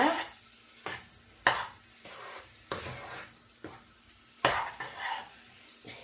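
Sugar stirred into a milk puttu mixture in a pan, heard as a run of regular scraping strokes of a spoon against the pan with a faint sizzle between them; no talking.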